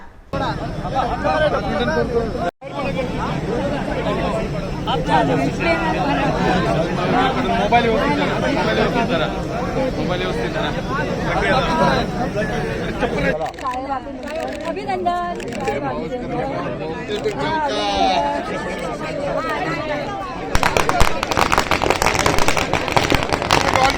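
Party workers celebrating outside a vote counting centre after candidate Uday Samant is declared the winner: a loud, continuous crowd roar with crackling bursts like firecrackers, briefly cut off, then swelling again, with voices talking over it.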